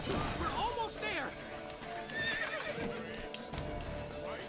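A horse whinnies loudly in The Witcher 3: Wild Hunt, with galloping hooves and game chatter running beneath, and a second neigh follows shortly after.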